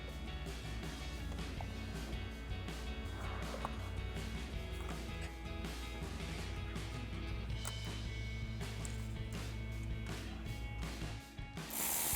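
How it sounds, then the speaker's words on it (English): Steady, close ratcheting clicks sound as a 7mm socket on a ratchet tightens hose clamps on silicone intercooler couplers of a 2015-2026 Ford F-150, running almost without pause and with a loud low hum underneath. "To tighten down these hose clamps, we're going to be using a 7mm socket and a ratchet."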